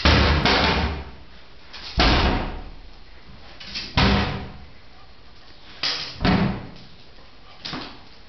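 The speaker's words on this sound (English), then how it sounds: "Go close the door." A door thuds shut several times at intervals, each bang sharp and fairly close, with quiet gaps between the closes.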